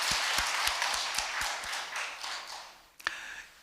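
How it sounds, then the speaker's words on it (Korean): A church congregation at Sunday worship claps in encouragement for the choir, a soft sustained patter of applause with a handful of louder distinct claps, fading and then ending with a sharp clap. "우리 성가대원 전체의 격려의 박수 한번 해주시겠습니다"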